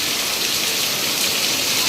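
Steady monsoon rainfall, a dense continuous hiss of drops pattering on surfaces close by, with no voices.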